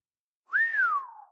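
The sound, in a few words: reader imitating a sardonic whistle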